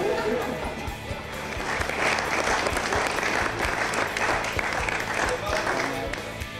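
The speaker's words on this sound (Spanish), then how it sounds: "antes de escuchar al técnico Horacio Macedo, un aplauso, sí, un aplauso para ustedes mismos chapulineros, porque todos somos chapos." Steady, dense applause from an audience at a sports team gathering, continuous and fairly loud throughout, with a crowd murmuring beneath it.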